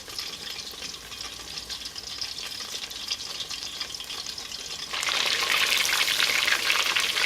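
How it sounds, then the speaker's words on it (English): Steady broadband sizzle of panko-coated chicken tenders frying in hot oil, continuous and close, growing noticeably louder and brighter about five seconds in. "Just waiting for them to fry."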